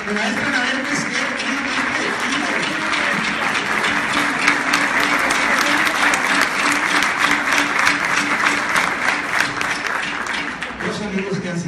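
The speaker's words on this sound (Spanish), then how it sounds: "porque le quiero dar un aplauso" Loud, sustained audience applause fills a concert hall as a music teacher is honored, a dense steady clapping that runs for about eleven seconds with faint voices and tones beneath it.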